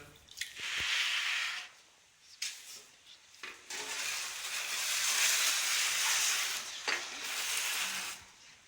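Water pouring and splashing as octopus is cleaned and moved into a fresh bowl of water, a steady wet rush with squishy handling noises and a couple of short pauses, fairly close.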